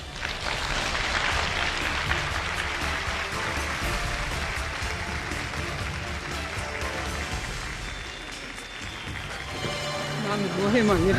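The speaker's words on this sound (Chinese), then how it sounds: "让我们掌声请出她" Studio audience at a Chinese relationship-mediation TV show breaks into sustained applause to welcome a guest onto the stage, a steady dense clapping wash that swells again near the end.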